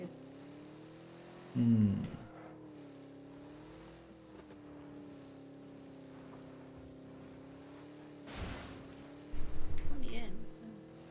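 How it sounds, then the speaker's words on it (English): A Dacia car engine in the game PUBG hums steadily at low level, its pitch wavering slightly as it idles and revs. A couple of brief bursts of noise break in, and a voice murmurs once. "Here's a Dacia."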